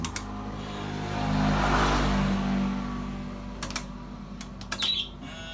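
A motorcycle's electric fuel pump running: a steady low mechanical hum with a faint whirring drone throughout, like priming, with a few brief clicks near the end.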